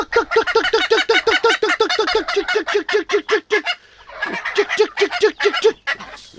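Young ducks and geese give a rapid, steady run of close, loud honks and gobbling calls, briefly pausing before the chorus resumes.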